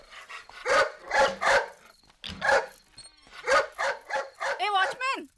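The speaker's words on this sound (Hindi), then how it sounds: "निमी भौंक रहे ना, उसे ले जा सुसु पार्टी के लिए" A dog barks repeatedly in quick rhythmic bursts, loud and close, in a household scene from a dubbed South Indian comedy film, ending in a strained yelping whine.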